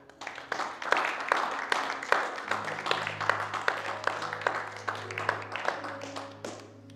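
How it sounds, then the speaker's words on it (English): A church congregation claps along in a lively, steady rhythm, many hands striking close by over a low sustained hum, with faint voices underneath. "Give God a hand clap"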